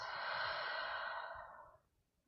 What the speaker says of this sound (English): Big breath out.